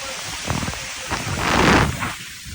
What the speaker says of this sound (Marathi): लय जोरात पाऊस आलाय